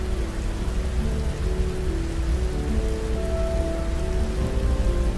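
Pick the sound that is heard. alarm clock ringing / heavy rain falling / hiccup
heavy rain falling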